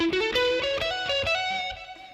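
Effected electric guitar plays a short phrase from measure 103, a quick rushed string of single notes rising and held, close and steady for about two seconds, with no voices.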